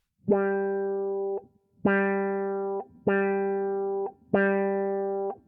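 Four sustained electric guitar notes through an Electro-Harmonix Q-Tron+ envelope filter pedal, each plucked and held about a second, with a filtered, wah-like sweep that settles as the note rings; no talking.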